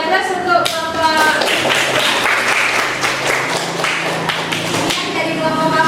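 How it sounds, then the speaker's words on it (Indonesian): Classroom applause for a group presentation in a twelfth-grade fashion class: a steady round of clapping from many hands lasting several seconds, with voices mixed in. "Bisa beri aplaus untuk kelompok"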